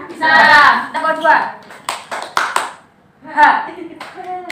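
Classroom pupils clap out a short rhythmic pattern in a lesson, a few sharp clap bursts mixed in with children's and a teacher's voices talking close by.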